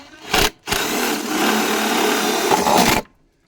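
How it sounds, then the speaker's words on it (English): Power drill boring holes through an RV panel for water lines, a loud close whirring burst, a brief pause, then a sustained drilling run of about two seconds that stops abruptly. "So I can just drill me a couple of holes right through here and run my water lines through here."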